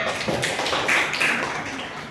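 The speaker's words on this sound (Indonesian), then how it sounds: "Ya, tepuk tangan untuk kelompok SBY." A classroom of children claps for a group, a short burst of quick, dense, overlapping hand claps at close range.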